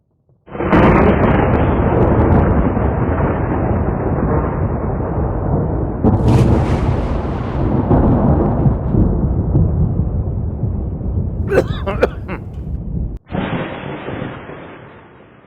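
Thunder cracks and rumbles loudly in a television drama scene, a dense, heavy roar sustained for about twelve seconds with a few sharper bursts near the end, then a brief separate crash.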